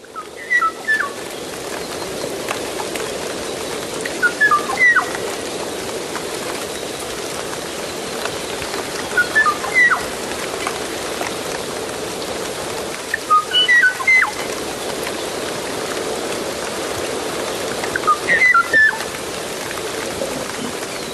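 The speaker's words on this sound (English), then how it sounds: "when this bird was singing in 1983, there were no other birds of its own kind to hear it" An extinct bird species recorded in 1983 sings short whistled phrases in a regular pattern, repeating roughly every four to five seconds, over a steady hiss of background noise resembling rain.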